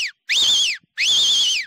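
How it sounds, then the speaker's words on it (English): A Silva Fox whistle gives two loud, piercing shrill blasts, each lasting roughly three quarters of a second with a brief gap between, close and alone. "it punches out just as much sound as the traditional Silva Fox"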